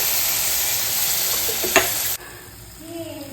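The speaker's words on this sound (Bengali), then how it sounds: "জলটা দিয়ে নাড়াচাড়া ভালো করতে করতে দেখো জলটা পুরো শুকিয়ে গেছে আর তার সাথে তেলও ছেড়ে গেছে" Onion and poppy-seed paste loosened with a splash of water fries in a pan, a loud steady sizzle with one scrape of the spatula before the sound abruptly drops to a quiet, fainter simmer.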